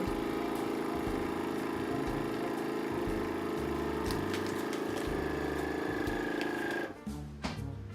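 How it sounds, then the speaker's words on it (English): A SARKI vacuum sealer runs in gentle mode for moist food, its pump droning steadily and loud for about seven seconds before cutting off abruptly as it seals the bag. "And it seals, automatically seals."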